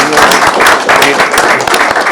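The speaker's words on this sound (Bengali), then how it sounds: "একদম জোরে একটা হাততালি দিয়ে সবার জন্য" An audience of expatriate Bangladeshis in Italy applauds, a dense, loud burst of clapping lasting about two seconds, close and continuous.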